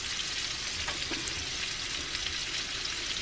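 Rainbow trout pan-searing in a frying pan gives a steady, close, even sizzle with faint crackles throughout.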